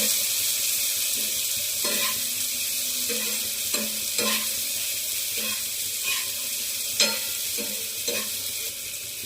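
Chopped onion and tomato cook in hot oil for a prawn curry, giving a steady close sizzle with a spoon stirring and scraping the pan every second or so. No one speaks.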